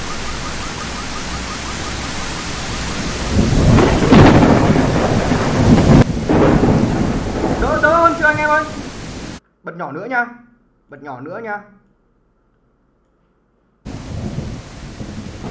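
Heavy rain hisses steadily in Exanimum: The Silent Call as a loud rumble of thunder swells and rolls. A voice speaks briefly, then the sound drops out to near silence before the rain returns.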